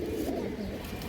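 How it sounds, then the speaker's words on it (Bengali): Red chulli pigeons coo in a steady, low, rolling murmur that carries on throughout, fairly close and unbroken, with no talk over it. "পিওর লাল যে কালারটা থাকে লাল চুল্লি কবুতর এই কালারটাই আছে।"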